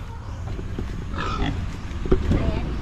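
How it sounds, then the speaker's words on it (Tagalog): Large pig grunting on a Filipino homestead, low rough grunts close by under people talking. "Ang laki na ng baboy ni mama."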